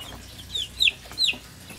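Faint baby chick chirps come through three times against a quiet low background hum, short high-pitched calls spaced under a second apart.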